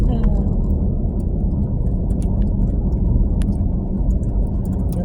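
A car rolls along a bumpy, repeatedly patched road, its engine and tire rumble loud and constant, with faint rattles and clicks from inside the vehicle scattered over the drone.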